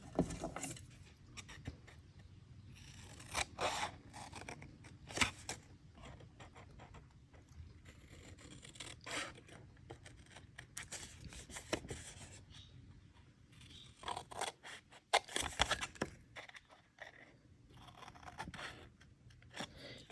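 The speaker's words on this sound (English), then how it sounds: "You want to cut out these 3 rectangles here, and then you want to cut out the 3 bottom ones." Scissors cut out paper rectangles for a shopping bag gift card holder, with close, irregular snips and rustling paper scrapes in short bursts and pauses between them.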